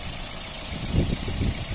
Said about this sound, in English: Engine sound nice and smooth, nice and clean